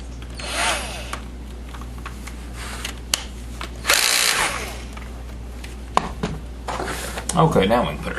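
A power drill bores into the wood of a MAME arcade cabinet, short whirring bursts with clunks and handling noise, while a voice talks in between.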